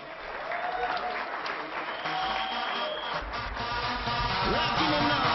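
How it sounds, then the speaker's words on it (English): An audience claps at a college valedictory program, a continuous wash of many hands that grows slightly louder toward the end, with a few faint voices and tonal sounds mixed in beneath the clapping. "Guys, keep clapping."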